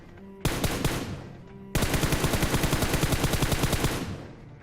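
Automatic gunfire in the PUBG Mobile video game: a short rapid burst, a brief pause, then a longer sustained spray of evenly spaced loud shots that trails off.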